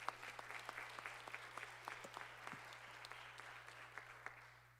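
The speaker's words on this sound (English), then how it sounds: "How about a round of applause for Mr. Sawyer Boudris?" Audience applause for an award recipient at a Berlin board of education meeting, steady sustained clapping from a room of people, fairly faint and distant, continuous throughout.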